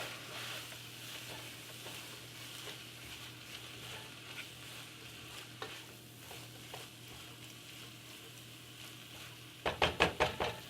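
Keto garlic chicken frying in a pan while an ingredient is stirred in, a low steady sizzle with scattered scrapes and knocks, ending in a quick burst of sharp, loud taps against the pan.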